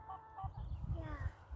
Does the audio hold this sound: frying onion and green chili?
no